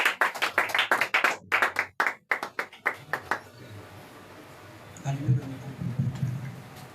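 A church congregation claps in a quick, loud rhythm to acclaim Jesus, and the clapping fades out after a few seconds while voices continue underneath.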